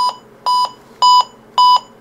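An Emerson CK2023 alarm clock radio beeps in an even rhythm, four short bursts of double beeps, close and fairly loud.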